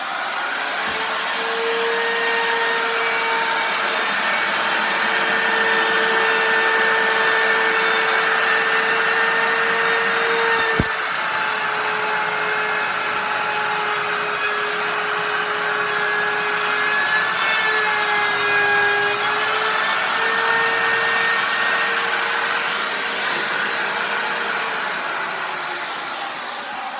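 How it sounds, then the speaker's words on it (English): Router cutting a solid wood stair tread: a steady high-pitched motor whine runs nearly unbroken for almost half a minute, pitch sagging slightly under load at moments, close and loud with no talk. "Got my router all set"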